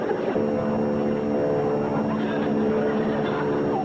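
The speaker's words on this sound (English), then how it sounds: "That sounds like my plane." A steady, droning propeller airplane engine hums continuously at a constant loud level, with a low harmonic whine throughout.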